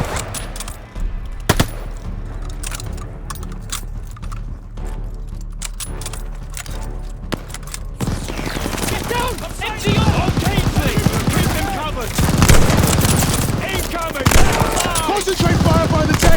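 Sustained bursts of rapid gunfire from soldiers in a Call of Duty Vanguard battle, with a dense, loud, continuous volley building up in the latter half, mixed with shouted commands.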